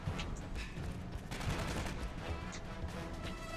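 A sentry gun fires in the Aliens: Colonial Marines game, a dense continuous rattle of rapid shots mixed with crashing impacts, loud and busy throughout with no pauses.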